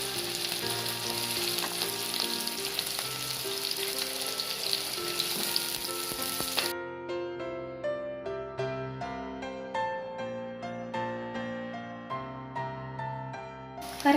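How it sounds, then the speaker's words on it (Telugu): Onions and seeds fry in about four spoons of oil with a close, hissing sizzle that dominates the first half, then soft plucked background music takes over. "ఒక 4 స్పూన్ల ఆయిల్లో కొంచెం గింజలు, ముందుగా కట్ చేసి పెట్టుకున్న 2 ఉల్లిపాయలు"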